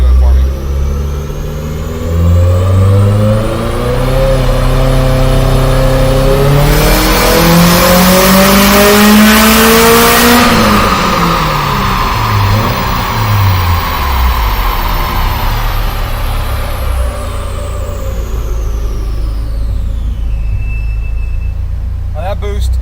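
A built 2.5-litre Subaru Bugeye engine on a Link ECU revs loud and close. Its pitch climbs to a peak, holds briefly, then falls back to a rumbling idle over roughly twenty seconds.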